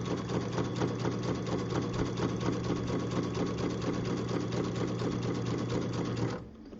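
A home sewing machine runs a zigzag stitch across the open edge of a fabric strip, giving a steady, close, rapid mechanical whir with a fast needle rhythm that continues for about six seconds before stopping.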